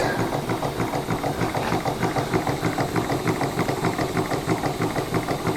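Barti Ddu, a small steam plant engine, runs steadily with a fast, even mechanical beat and a rhythmic thumping from its flywheel, close by and continuous with no talking.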